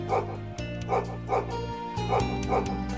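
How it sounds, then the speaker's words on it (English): A dog in the video game Trails of Cold Steel gives a rapid run of yapping barks, about six sharp woofs spread over a few seconds, above a sustained music bed. "That dog's always making a racket."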